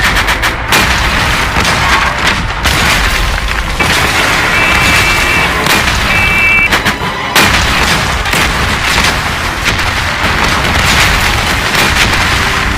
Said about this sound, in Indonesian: menghindari meriam-meriam Jepang yang dilancarkan